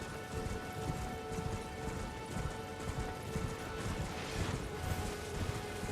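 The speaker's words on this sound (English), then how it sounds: "I'll hop back on the horse." A horse gallops in the Elden Ring video game, its hooves a fast, steady clip-clop drumming close and continuous for several seconds over a wide noisy game backdrop, with no voices.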